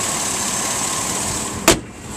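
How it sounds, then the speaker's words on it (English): A 2003 Chevrolet Avalanche Z71 4x4 crew cab pickup idles steadily close by, a constant engine hum with one brief sharp click or thump near the end. "Engine is running as I speak."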